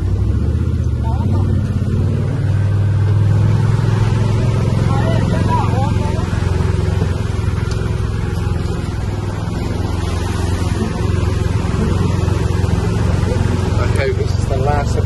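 A car pushes through deep floodwater on a flooded road on Holbox Island, its engine droning steadily under a constant loud wash and rumble of water, with voices talking in the cabin.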